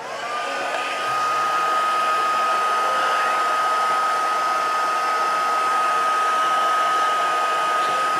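Heat gun blowing a constant loud whoosh with a steady high tone while shrinking heat shrink tube over a soldered skateboard wire, rising quickly at the start and holding even throughout.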